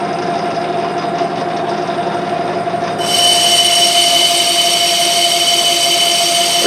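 A metal lathe with a 6-jaw chuck turns at 350 RPM while cutting, giving a loud steady whine with sustained tonal hum and a sharper high-pitched cutting squeal that kicks in partway through, continuous and close.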